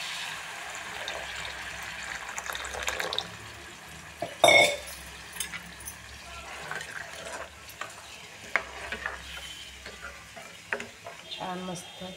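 Hot water pours into a pan of frying dried shrimp with coriander, bringing a sharp splash and hiss, and then stirring scrapes quietly over a low sizzle.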